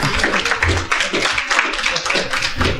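Audience applause at a cooperative conference session, a dense continuous patter of many hands clapping close by for a few seconds, with no talk over it.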